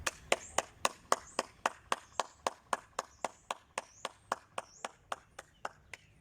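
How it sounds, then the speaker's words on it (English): Children clap their hands together in a music lesson at a Montessori school, a steady run of about twenty sharp, evenly spaced claps, close and clear, with no talking. "Can you all clap your hands with me?"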